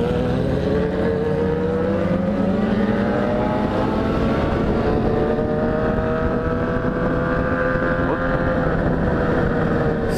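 A loud BMW F800GS motorcycle exhaust revving and droning continuously, close and harsh, its pitch rising and falling.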